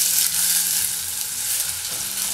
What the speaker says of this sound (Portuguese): Você vai refogar essa cebola no azeite.